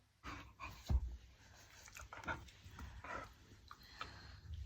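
A dog panting after coming back from a walk, with quick, soft, close breaths that come in uneven bursts and a louder huff partway through.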